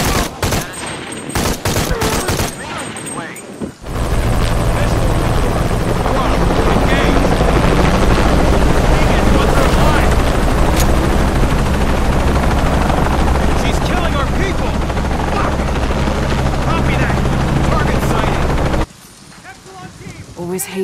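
A helicopter's rotor thrums loudly and steadily for most of the clip in Shadow of the Tomb Raider, with bursts of gunfire and battle noise layered over it before it cuts off.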